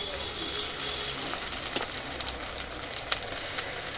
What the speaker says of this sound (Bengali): ভালো করে ভেজে নিতে হবে